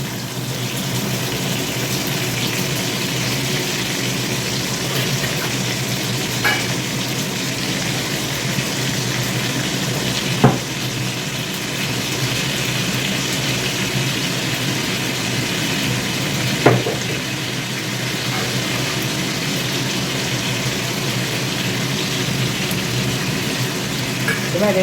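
Ground paste of onion, garlic and ginger frying in a pan, a steady loud sizzle running without break, close, with a couple of faint clicks.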